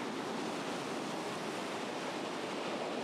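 Ocean surf on New Zealand's rugged West Coast, a steady wash of broadband roar from waves breaking offshore, heard without voices.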